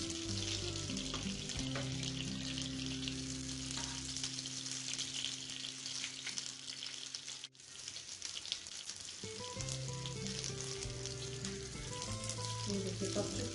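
Chapli kebabs sizzle steadily in a frying pan, a continuous close hiss and crackle of oil with a faint background tone and one brief dip midway.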